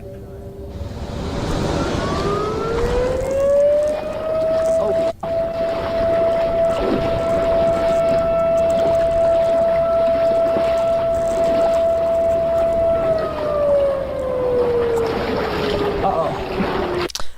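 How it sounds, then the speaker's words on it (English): A loud, sustained siren in a horror video game wails, rising in pitch, holding one steady droning tone for several seconds, then falling away over a rumbling background. "the fishing trip was suddenly interrupted by a loud, blaring noise. A siren."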